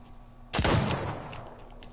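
A single loud gunshot rings out in a shooter video game, a sharp close crack with a short decaying tail, followed by faint background game noise.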